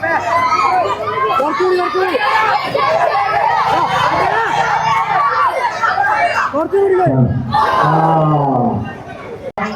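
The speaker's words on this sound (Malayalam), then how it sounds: "എല്ലാരും വലിയ കയ്യടി എടുക്ക്, വലിയ കയ്യടി എടുക്ക്" A large crowd cheers, shouts and hollers at an Onam celebration, with children's voices in a dense, loud, continuous roar of voices and a brief surge near the end.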